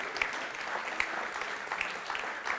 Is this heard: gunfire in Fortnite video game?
no